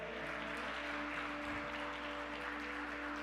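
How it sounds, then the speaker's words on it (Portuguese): Church congregation applauding during a sermon, a steady, dense wash of clapping that fills the whole stretch at moderate level with a low hum underneath. "Se quiser pode aplaudir o Senhor."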